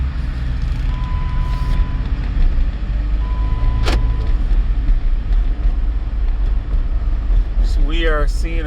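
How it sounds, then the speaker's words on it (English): Continuous low road and engine rumble inside a moving car during ABS light diagnosis, steady and close, with a couple of faint electronic tones and a person talking near the end. "we are driving now"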